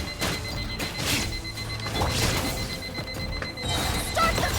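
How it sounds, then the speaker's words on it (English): An alarm clock rings with a steady electronic tone that persists over loud Genshin Impact combat effects, clashes and game music throughout. "Oh, my alarm's going off."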